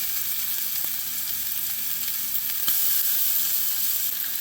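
Meat fat cooking in a hot pan gives a continuous close hiss of sizzling with occasional pops, with no voices over it.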